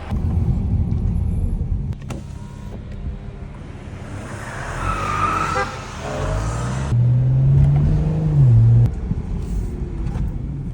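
A Mercedes-AMG C63 engine rumbles low and rough while warming up, with rising revs in the middle and a strong, sustained rev later on. A few tire-like squeals and other noises are mixed in.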